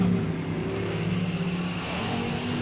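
Big block Chevy drag race cars accelerating hard at an NHRA National Open, a loud, continuous engine roar with droning, rising tones held throughout.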